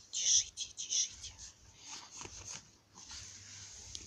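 A dog gives a few short, high-pitched yelps or whimpers near the start, followed by quieter rustling and faint, soft voices nearby.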